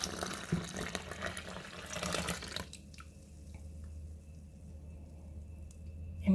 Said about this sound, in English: So we're going to pour that into our well